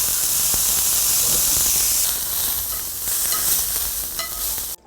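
Vegetables for gimbap are stir-fried in a pan and seasoned with a pinch of salt, producing a loud, continuous sizzle and hiss with faint stirring scrapes that cuts off abruptly at the end.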